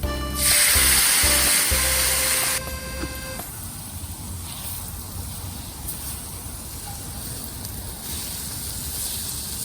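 A loud burst of sizzling from a frying pan as soy sauce hits scrambled egg and green peppers, lasting a couple of seconds before settling into a quieter, steady hiss.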